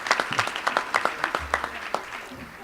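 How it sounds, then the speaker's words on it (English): At an awards ceremony for a project delivery forum, an audience gives a round of applause, with distinct, fairly sparse hand claps that patter irregularly at moderate volume and a little background voice underneath. "Please join me in giving a big round of applause for the"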